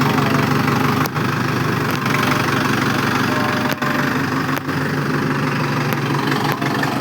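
A tractor engine drones continuously at close range, a low rumble with a rough mechanical texture and no breaks.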